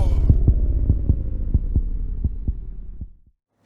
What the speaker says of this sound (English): fade out and lower the pitch of the heartbeat and low health rumble